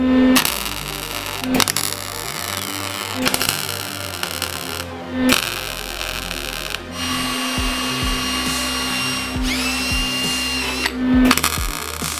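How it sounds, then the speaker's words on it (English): Steel plates are tack welded in place on a homemade 20-tonne hydraulic press: several short, crackling, buzzing bursts of welding separated by brief pauses, close up, with no talking. "we'll weld it here, here, here, and here, and that'll hold the whole thing. So we're just gonna tack it in place now."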